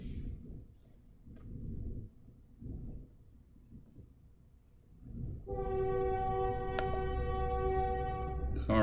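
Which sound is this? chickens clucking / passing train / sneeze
passing train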